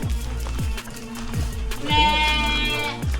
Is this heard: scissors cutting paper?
no